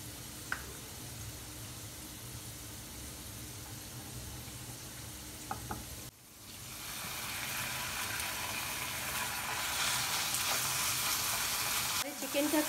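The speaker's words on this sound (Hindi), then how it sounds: "इसमें अपना लहसुन शामिल कर देंगे।" Garlic sizzling in hot oil in a pan, a steady frying hiss that swells louder partway through and carries on without talk.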